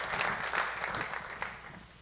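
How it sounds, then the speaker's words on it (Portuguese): A church congregation gives a brief burst of applause for the Lord during a sermon, with steady clapping that is moderately distant and gradually fades. "Aleluia, aplauda o Senhor, meu irmão"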